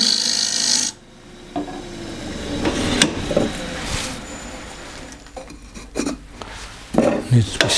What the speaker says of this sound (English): I'm going to cut a little chamfer that way